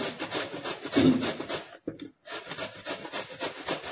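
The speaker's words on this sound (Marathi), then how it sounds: "त्यानंतर आपण भोपळा किसून घेतोय" A tender bottle gourd with its skin on is grated by hand in a home kitchen, making repeated rasping strokes with a brief pause near the middle.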